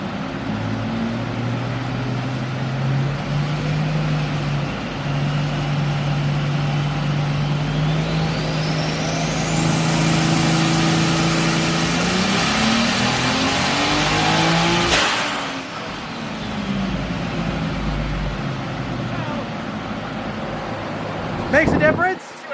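A Toyota Aristo's engine revs hard on a dyno with the exhaust closed to quiet mode, a loud, steady rising pull that climbs in pitch for about fifteen seconds before cutting off abruptly and then briefly blipping near the end.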